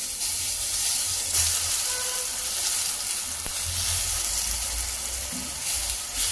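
Marinated vegetarian fish pieces sizzle in a little oil on a flat tawa pan, giving a steady close crackling hiss with occasional faint stirring scrapes and no voices.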